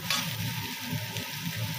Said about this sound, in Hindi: तो देखिए प्याज हमारे भुन गए